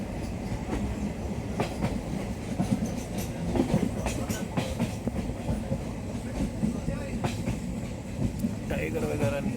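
A train rolling slowly through deep forest in northeast India, with a steady rumble and repeated clickety-clack of wheels over rail joints, loud and close from onboard.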